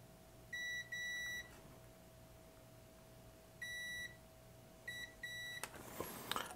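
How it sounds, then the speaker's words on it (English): A multimeter set to continuity mode beeps while wires are checked on a Grandstand Astro Wars (Epoch Galaxy II) handheld game: clear steady tones in short bursts, first two near together, then three more, over a quiet room hum. "we'll come back to our meter in continuity mode. We'll just check the wires"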